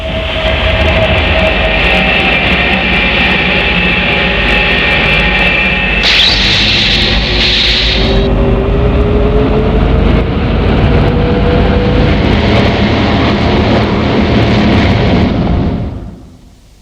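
A MiG-242 jet aircraft roars loud and steady for about sixteen seconds, with a brief higher whine rising partway through, then cuts off abruptly at the end.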